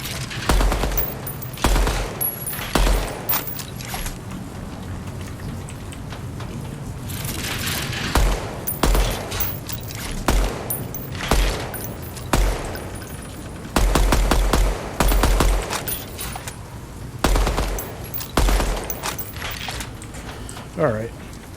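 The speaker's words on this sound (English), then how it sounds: "the gun is definitely not shooting dead center" Gunfire in the video game DEADROP, rapid bursts of sharp automatic shots repeating in clusters over a steady game backdrop, with someone talking at times between volleys.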